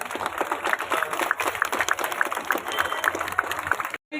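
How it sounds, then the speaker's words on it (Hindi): A crowd at a public event in Dharuhera, Haryana, claps to welcome Uttarakhand Chief Minister Pushkar Singh Dhami; the applause is dense and continuous for about four seconds, then cuts off abruptly. "तालियों से उनका स्वागत हो"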